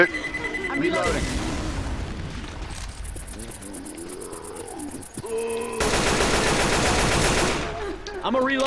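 In Left 4 Dead 2, a pipe bomb blast and sustained automatic gunfire play out in loud, dense bursts, with players talking over the chaos.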